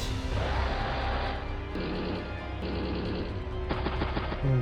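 Anti-air unit in Advance Wars firing on a gunboat: rapid bursts of game machine-gun fire in clipped rattling volleys with short gaps between them, loud and close, with no talk.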